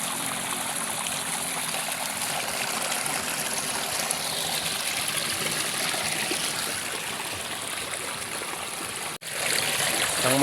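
Water pours and trickles steadily into an African catfish pond during a water change, an even, continuous rush, with a brief sharp knock near the end.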